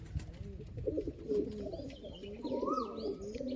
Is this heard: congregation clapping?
no